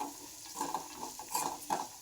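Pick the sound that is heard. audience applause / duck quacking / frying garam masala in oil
frying garam masala in oil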